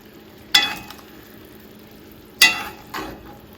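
Halibut sizzling in a pan as piccata sauce is spooned over the fillets, with a steady low sizzle broken by three sharp spikes of spitting and clinking from the spoon.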